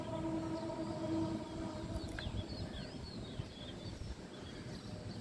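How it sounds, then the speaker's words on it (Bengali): A train rumbles far off in the cool early morning, a low steady drone with a faint horn-like tone early on and a few birds chirping over it, distant and quiet with no talk. "ভোরবেলা সব কিছু ঠান্ডা, এর জন্য ট্রেনের আওয়াজ শোনা যাচ্ছে"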